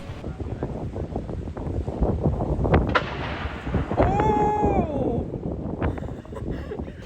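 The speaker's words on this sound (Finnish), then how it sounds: "kello 1 sieltä linnan muureilta laukastaan tykki, jotta koko kaupunki tietää," A single cannon boom fired from the walls of Edinburgh Castle marks one o'clock over the city, heard at a distance in breezy outdoor air and followed by a faint tonal whine and ambient street noise.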